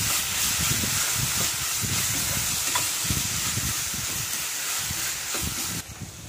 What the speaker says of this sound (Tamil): இஞ்சி பூண்டு பேஸ்ட் நல்லா வதங்கிடுச்சு, பச்சை வாசனை போயிடுச்சு